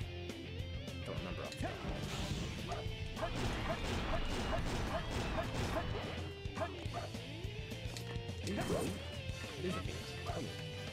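Skeleton dog enemy in Sonic Adventure 2 barking and yipping amid loud game music and crashing effects, several short barks repeating through the clip.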